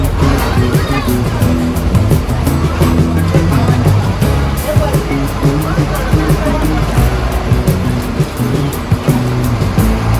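A car driving along the Mumbai–Goa highway in Konkan gives a loud, continuous rumble of engine and road noise with rushing wind, steady and close inside the vehicle, with people talking underneath.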